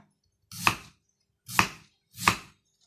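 Raw bamboo shoots are chopped on a board in preparation for boiling, with three crisp, evenly spaced knife strikes, close and loud, against an otherwise silent background.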